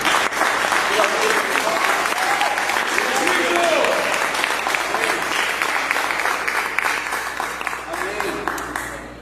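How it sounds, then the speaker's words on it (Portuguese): A church congregation bursts into sustained applause in praise of Jesus during a service, thick and steady clapping that stays loud and fades gradually toward the end. "E vamos dar uma salva de palmas a Jesus."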